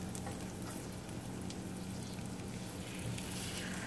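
Red snapper and red drum fillets are laid into a hot skillet with garlic. They sizzle and crackle in a steady, fairly quiet hiss throughout.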